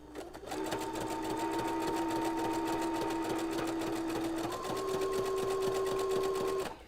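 A household sewing machine with a hemming foot runs in one continuous close, loud stitching burst with a rapid rhythmic needle clatter and steady motor whine that shifts slightly higher partway through before stopping.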